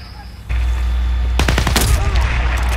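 Rapid automatic gunfire bursts out in Battlefield Play4Free on the Sharqi map, loud and close over a constant vehicle engine drone, with sharp repeated shots clustered together.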